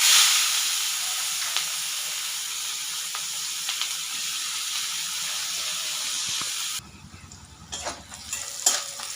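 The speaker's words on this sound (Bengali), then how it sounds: "আমি দিয়ে দেবো পেঁয়াজ।" Onions fry in oil in a pan for a tapra fish curry, making a loud, steady hiss and sizzle that drops abruptly to a quieter, crackling simmer near the end, with no talking.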